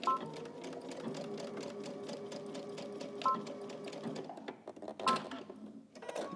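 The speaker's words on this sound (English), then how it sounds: "go ahead and stitch this together." A sewing machine stitches a tank top seam in a steady, fast mechanical chatter that runs for several seconds, slows and stutters briefly near the end, then resumes.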